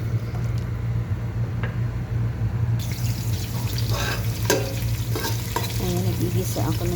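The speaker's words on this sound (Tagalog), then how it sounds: "ito naman ay nagigisa na ako ng sibuyas para sa giniling" Onions sautéing in a pan before ground meat is cooked, a steady sizzle with scraping stir strokes and clatter, close and continuous over a low kitchen hum.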